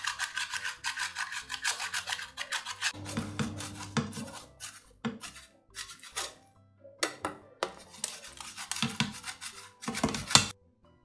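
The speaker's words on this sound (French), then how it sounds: "je vais râper le tiers de la pâte que j'ai laissé au congélateur" A block of frozen cake dough is rasped across a grater in repeated scraping strokes, bursts of coarse gritty friction starting and stopping with short pauses, close and fairly loud with no voices.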